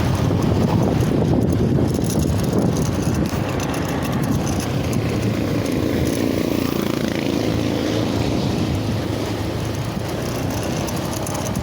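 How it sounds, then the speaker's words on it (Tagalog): Strong wind roars and buffets the microphone steadily while riding along a road in Biñan on an overcast day, a loud continuous rush with engine and road noise underneath. "Malakas ang hangin, kulimlim"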